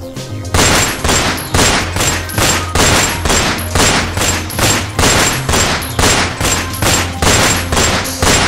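Guns open fire in a loud, rapid, sustained burst of evenly repeating booming shots, close and dense, with no talking over them.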